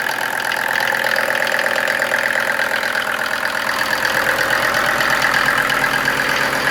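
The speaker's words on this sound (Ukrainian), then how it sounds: "Ой, насос дує непогано." A Mercedes OM602 2.5 diesel engine driving an irrigation water pump runs steadily at a medium pitch with a rough, knocking chug, continuous and fairly close, with no one speaking.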